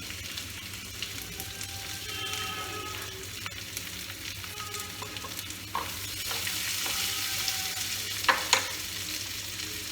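Four small onions fry in a pan with a steady close sizzle, a constant crackling hiss with occasional louder pops and a few stirring scrapes toward the end.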